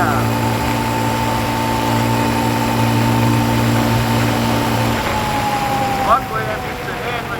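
Suzuki LTZ 250 ATV engine running steadily while riding through woods at night, a continuous mid-level drone with a pitch shift near the end, with a voice talking over it.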